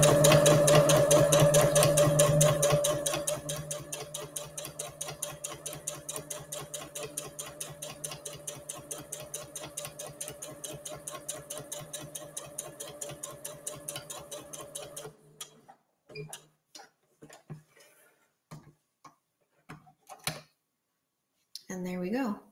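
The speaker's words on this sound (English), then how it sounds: "aligning the edge of my foot with the edge of my fabric for my last line of top stitching" A sewing machine runs a line of top stitching along the edge of a fabric gift bag, a fast even mechanical chatter that carries steadily, then breaks into short stops and restarts near the end.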